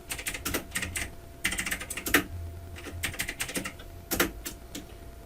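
Rapid bursts of keystrokes on a computer keyboard, clattering in irregular clusters with short pauses between words, close and clear with no talking.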